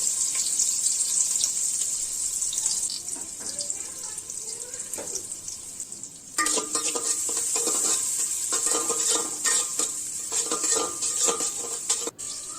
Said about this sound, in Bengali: আর এদিকে আমি এখানে 50 গ্রামের মতো সরষের তেল দিয়েছি, একটা পেঁয়াজ দিয়েছি, বেরেস্তা করে নেব।